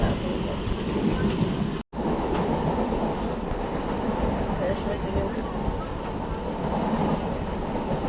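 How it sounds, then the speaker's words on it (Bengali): A train runs with a steady, loud rolling rumble heard from on board, continuous apart from one brief cut near the start. "যেখানে ট্রেনটা থামার কথা সেখানে না থেমে স্টেশন এগিয়ে ফেলেছি"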